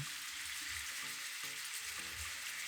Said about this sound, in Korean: 설탕과 간장을 모두 넣고 부글부글 끓을 때까지 기다려요